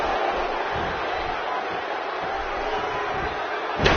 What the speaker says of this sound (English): This is an electric crowd here tonight, and we're hearing from them every time these competitors make a move.